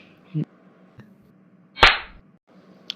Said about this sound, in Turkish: şimdi uygulamanın kendisinde tokat atma ses olmadığı için e, edit uygulamamdan yaptım